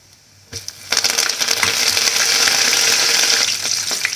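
Mustard seeds, chana dal and urad dal sizzle loudly in hot sesame oil, a quiet start giving way at once to a dense, steady crackle and hiss that holds throughout, with no voices.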